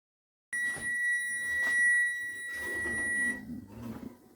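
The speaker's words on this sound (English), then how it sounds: "Buzzer went off." A steady high-pitched electronic oven timer buzzer sounds continuously for about three seconds, then cuts off, with some background clatter underneath.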